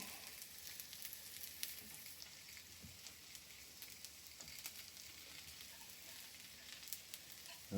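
Onions frying beside burgers on a Blackstone 22-inch E-Series electric griddle, a steady, fairly quiet broadband sizzle throughout with a few faint clicks and a louder bump at the very end.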